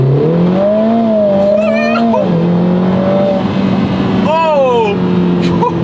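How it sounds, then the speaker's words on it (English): Lotus Emira I4 sports car launching hard with launch control, its turbocharged four-cylinder engine rising steadily in pitch through the gears with brief shift dips, loud from inside the cabin. "I really want to test launch control on this car"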